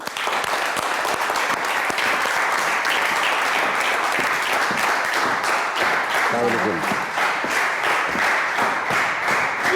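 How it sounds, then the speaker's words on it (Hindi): Studio audience applauding to welcome a guest on a television talk show, continuous loud clapping that fills the whole stretch with a faint voice briefly heard partway through. "बहुत सारी तालियों में इस्तकबाल कीजिए।"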